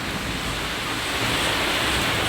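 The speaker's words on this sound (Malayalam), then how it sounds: "ഇവിടെ മഴ ചെയ്യണം. അപ്പോൾ നല്ല സൗണ്ട് ഉണ്ട്." Rain falls in Minecraft Pocket Edition as a dense, even wash of steady noise that stays loud throughout, with no voices over it.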